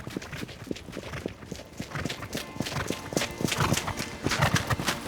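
Trotting racehorse's hooves on a track, a fast, steady clip-clop rhythm growing louder and more forceful, heard close with faint background noise.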